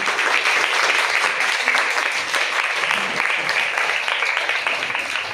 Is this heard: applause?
yes